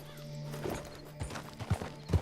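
Horse hooves clip-clop in Red Dead Online, with a whinny from a scrawny nag: uneven, close hoofbeats strike in a quickening cluster over a low game ambience.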